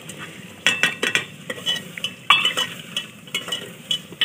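Chicken goes into a pot and is stirred, producing a string of clinking scrapes of a utensil against metal in an uneven rhythm over a low sizzle, close and fairly clear.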